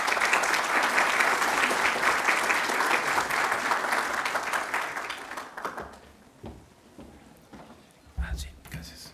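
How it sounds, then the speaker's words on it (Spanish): An audience claps a warm welcome for a speaker at a lecture, loud and sustained for about six seconds before fading into scattered claps and small handling noises. "démosle una cálida bienvenida, por favor, con un aplauso."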